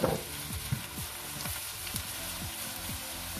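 Tadka sizzles steadily in a pan after a large spoonful of nutmeg powder has gone in, a continuous close frying hiss with faint stirring scrapes and no talk.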